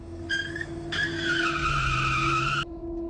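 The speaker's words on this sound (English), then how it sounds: "The car stopped." A car's tires squeal loudly and steadily as it skids to a stop on a road, a sustained screech of about two seconds that cuts off abruptly, leaving an engine idling.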